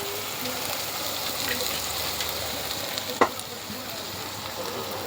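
Ginger garlic paste frying in a pan, a steady close sizzle throughout with one brief sharp clink partway through.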